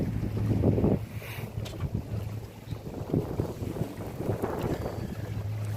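A sailboat moves through gusty wind on Lake Norman, with constant rushing wind buffeting the microphone, water wash and a low hum, no talking.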